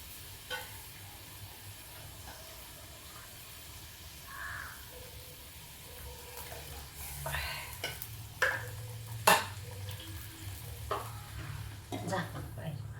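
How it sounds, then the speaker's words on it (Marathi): Marathi-style mushroom masala cooks in oil with a soft, continuous sizzle and occasional stirring scrapes and clinks, faint and close, with louder utensil knocks toward the end. "तर आता आपल्याला याला तेल सुटेपर्यंत आपल्याला शिजवून घ्यायचं आहे."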